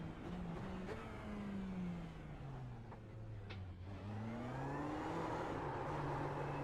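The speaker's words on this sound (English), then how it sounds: "I think it would be appropriate to do a few donuts" A race car engine in the iRacing sim at Imola revs and wavers steadily while spinning donuts, a continuous droning whine that rises and falls in pitch with little else over it.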